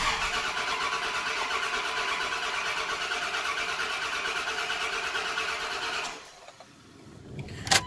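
A car engine cranking on the starter, a steady rhythmic churn lasting about six seconds before cutting off, with faint clunks afterward, while the oil pump is primed.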